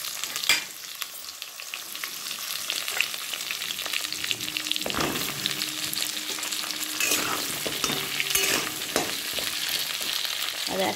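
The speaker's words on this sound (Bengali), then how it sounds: "আমি সেহেতু এবার পটলগুলোকে তেলে ছেড়ে দেবো।" Pointed gourd (potol) pieces frying in hot oil for a paneer dish, a steady close sizzle and crackle with occasional spatters and a few stirring scrapes, no voices.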